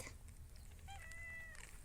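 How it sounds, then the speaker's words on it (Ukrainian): Cats meowing in a village yard in July, a drawn-out, rising meow standing out clearly from soft background noise, with a faint shorter call just before it. "Що тут у нас? Котяче царство."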